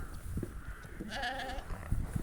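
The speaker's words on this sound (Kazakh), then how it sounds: "Мынау соңғы туған қоздаған қозылар ғой" Newborn lambs bleat nearby, a high wavering cry in the middle with soft rustling and low background noise around it.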